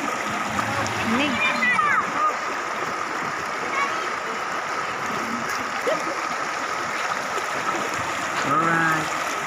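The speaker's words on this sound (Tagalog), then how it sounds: "Sa ilog ng Bitbit." River water at the Bitbit river flowing and splashing, a continuous close rushing wash with brief splashy bursts, while people talk and shout over it at times.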